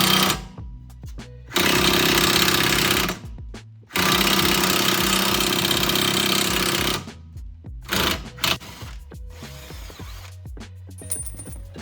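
An impact wrench drives a wheel stud into a 2018 Honda Civic Si hub through stacked metal washers, hammering in two long loud bursts followed by shorter intermittent rattling pulls, close up.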